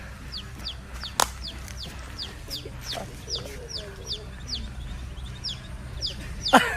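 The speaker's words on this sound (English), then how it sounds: "This little baby chicken was adopted by this duck." A baby chick peeps in a steady series of thin, high chirps, repeated about twice a second, fairly close over a low background murmur, with a couple of sharp knocks.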